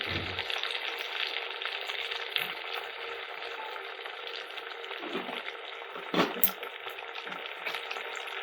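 Asafoetida and green garlic sizzle in hot oil for a tempering, giving a steady, bright frying hiss throughout, with a few stirring clinks and a sharper burst of crackle near the end.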